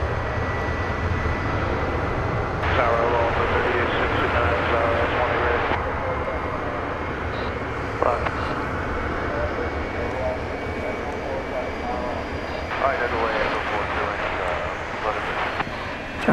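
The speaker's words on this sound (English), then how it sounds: "It's our first MD-11 of the evening, going to Louisville. A little smoky start there." An MD-11 freighter jet bound for Louisville at DFW Airport takes off at night with a smoky start, its engines a sustained broad roar while a voice talks intermittently over it.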